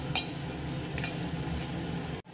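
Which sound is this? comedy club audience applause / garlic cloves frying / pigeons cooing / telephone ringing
garlic cloves frying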